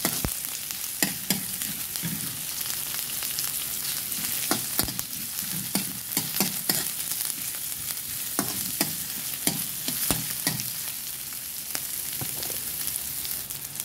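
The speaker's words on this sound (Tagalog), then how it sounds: "So, lalagay ko lang itong onion" Chopped onion sizzles and fries steadily in olive oil in a pan, with a continuous crackling hiss broken by frequent sharp pops and stirring scrapes, close and even in level throughout.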